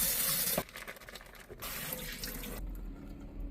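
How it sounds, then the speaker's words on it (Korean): Tap water runs into a sink while onions, along with bean sprouts and green onion, are rinsed for a spicy braised beef rib meal kit, a steady close rush with brief shifts in flow and no talking. "양파를 물에 씻어 오겠습니다"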